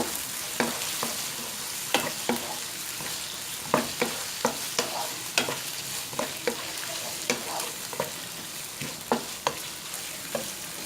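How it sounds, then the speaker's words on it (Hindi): Chicken and onion fry in a pan, a steady broadband sizzle broken by frequent sharp scrapes and clinks of a spoon stirring, close and continuous with no talking. "चिकन को आपने इतना फ्राई करना है कि इसका कलर चेंज हो जाए"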